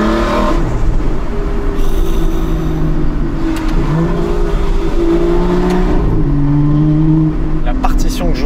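Naturally aspirated V12 of an Aston Martin V12 Vantage S revs hard in second gear, a loud, continuous howl that climbs and drops across several throttle pulls, with the driver talking over it from inside the car.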